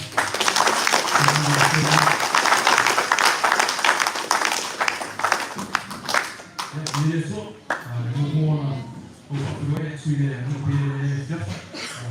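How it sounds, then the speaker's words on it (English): A youth rally crowd gives the team a big round of applause, dense loud clapping filling the first half and then thinning into scattered claps as a voice begins talking over it. "I want to give a massive round of applause to the team."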